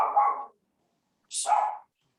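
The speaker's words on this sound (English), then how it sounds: "that's my dog" A pet dog barks twice in quick succession, each bark loud and close, with a short silent gap between them.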